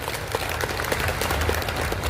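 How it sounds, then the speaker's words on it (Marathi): An audience at a public health talk applauds in a dense, continuous burst of clapping that holds steady throughout. "आपण एकदा टाळ्या वाजवून त्यांना अभिवादन करूया"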